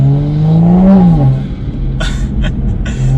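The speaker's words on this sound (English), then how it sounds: "Wow, that is instant throttle, and that just spun like crazy." Tuned Toyota Supra A90 pulling away hard, a rising engine drone that swells then drops as the wheels spin, followed by a few bursts of hissing tire noise, heard from inside the car.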